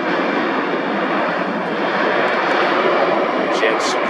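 Gulfstream business jet engine at an Atlanta airfield during a hotel demolition event, a steady loud whooshing roar held throughout with faint high whine near the end, no other clear sounds over it.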